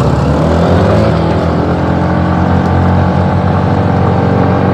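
Honda Grazia scooter and Hero Super Splendor SX motorcycle engines drone loudly and steadily together during a drag race, a constant close-up motor roar with no pauses.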